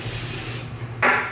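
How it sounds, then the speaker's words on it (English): Non-stick cooking spray hisses into a pan before turkey patties go in. A steady, close spray fades, then a short, brighter second burst follows, with no talking. "I'm gonna be pan cooking these with some non-stick spray."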